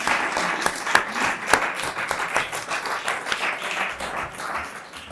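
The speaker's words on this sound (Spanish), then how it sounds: "Primero los aplausos." Sustained applause from an audience at a book presentation, a dense steady wash of many hands clapping that fades slightly toward the end.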